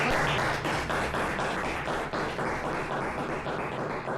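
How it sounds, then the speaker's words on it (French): Dense, steady audience applause at a live French evening show, filling the whole moment without a break and holding an even loudness throughout. "Applaudissements s'il vous plaît, c'est vraiment joli."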